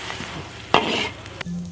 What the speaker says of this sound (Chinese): 两种食材在滋滋的油锅中相遇了